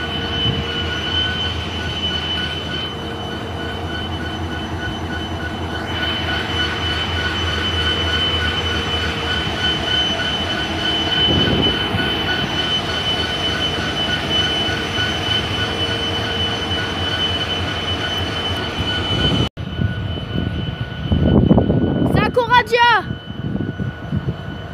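Alstom Coradia train pulling in on the neighbouring track at a station, a steady loud rumble of rolling stock with wheel squeal, then brief talk nearby near the end.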